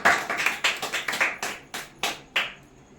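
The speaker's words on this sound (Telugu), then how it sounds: "చప్పట్లు కొడదాం దేవునికి మహిమకరం" A church congregation at a Bible study claps hands in praise, about a dozen loud rhythmic claps in quick succession, slowing toward the end, with no talk.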